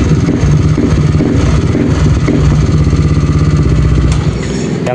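Yamaha Aerox scooter engine idling close by, after airlock and engine-case repairs for a sewing-machine-like rattling fault, giving a loud, steady ticking clatter throughout.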